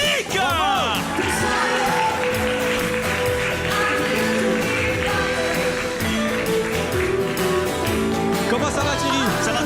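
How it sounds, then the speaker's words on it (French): Audience applause and scattered whoops fill the room, dense and steady, with music and voices mixed underneath throughout. "Sous les applaudissements du public."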